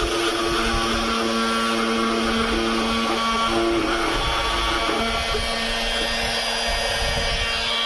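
An Ingco MF3008 oscillating multi-tool runs continuously with a steady buzzing whine and gritty cutting noise, close and loud, with no pauses.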